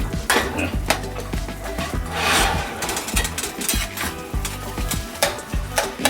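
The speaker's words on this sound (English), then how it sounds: "it doesn't take long for this ground turkey to start cooking" Ground turkey sizzles in a pan as a utensil stirs and breaks it up, with repeated scrapes and taps against the pan over a steady frying crackle.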